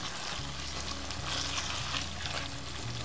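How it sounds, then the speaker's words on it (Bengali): Chicken curry being sautéed in a pan for an Old Dhaka–style white chicken curry, with a steady, close sizzling hiss running throughout and a low stove hum beneath. "আমি এটা একটু কষিয়ে নিচ্ছি ভালো করে।"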